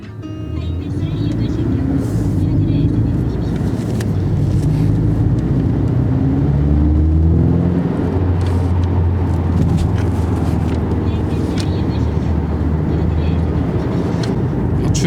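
Porsche 718 Boxster S with 2.5 engine on a test drive, a steady loud engine and road drone with rising and falling low tones as it accelerates, continuous throughout; a voice talks over it.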